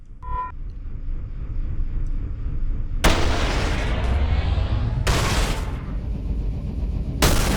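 A charged weapon fires in the video game The Fall as a series of loud, booming blasts, each a sharp broadband crack with a rumbling tail, spaced a couple of seconds apart after a quiet start.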